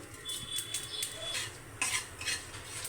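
A bay leaf and panch phoron spices fry in oil in a pan for a mixed small-fish curry, with a soft sizzle under frequent metallic clinks and scrapes of a spoon stirring.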